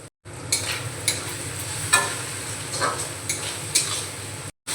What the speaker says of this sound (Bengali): কুচনো আদা দিয়ে একটু নাড়াচাড়া করে